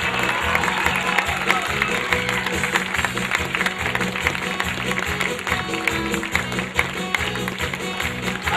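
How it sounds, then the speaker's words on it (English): An audience at a middle school production of Mary Poppins in Karachi, Pakistan, applauds the school choir of young singers, with sustained dense clapping and a rhythmic thumping pattern running underneath. "please give another round of applause to our choir"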